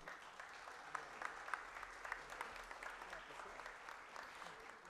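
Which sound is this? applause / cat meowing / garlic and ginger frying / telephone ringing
applause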